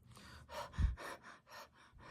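A voice imitates incorrect, gasping breathing with a quick series of sharp, rhythmic breaths, about seven in two seconds, close and fairly quiet.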